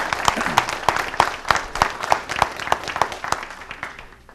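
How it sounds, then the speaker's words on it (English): An audience at a conference center meeting applauds scouts with a burst of clapping, fairly close and lively, with a few sharper claps standing out before it tapers off near the end. "How about a round of applause for our scouts?"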